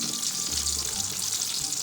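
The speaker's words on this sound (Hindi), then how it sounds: "टमाटरों को 3 मिनट तक मैंने फ्राई कर लिया।" Tomatoes sizzle steadily as they fry in a pan on the stove, a constant bright crackle with a low hum beneath, close by with no talking.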